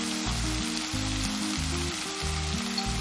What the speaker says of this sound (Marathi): मसाला तेलात छान परतून झाला आहे, मस्त वास येतोय मसाल्याचा.